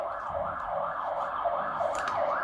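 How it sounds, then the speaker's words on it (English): Wailing ambulance siren outside, rising and falling steadily in a repeating cycle, moderately loud and continuous with no talking over it. "I'm getting like an ambulance outside."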